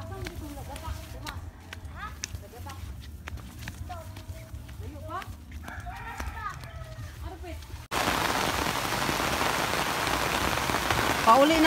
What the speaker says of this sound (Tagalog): Pauli na ko guys, kaya inaabtan ako sa ulan, no? Kusog kay ulan, no?